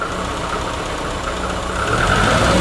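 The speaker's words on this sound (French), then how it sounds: "ça démarre, mais comme on dit, on sent, elle n'est pas à l'aise, ça tourne pas très bien au ralenti déjà" A car engine idles roughly with an uneven, knocking rumble, then revs slightly louder toward the end as it begins to accelerate, with no talk over it.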